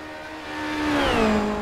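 Formula Renault 2.0 race car engine in iRacing at the Nürburgring Nordschleife, a steady droning whine that rises and shifts pitch midway, growing slightly louder, with no talk.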